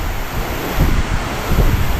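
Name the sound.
wind at the beach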